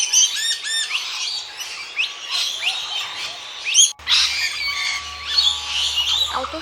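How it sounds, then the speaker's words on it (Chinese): A flock of parrots calls from trees, with loud overlapping squawks and chirps close by, continuous and busy throughout, alongside a low hum in the second half and no talk. "好多鹦鹉啊！"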